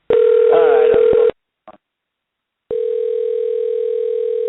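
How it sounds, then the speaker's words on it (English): A telephone rings while a call is placed: a long, steady ringback tone, a pause of near silence with a tiny blip, then the tone starts again, loud and close. "right now I'm gonna call in Eli Everfly right now"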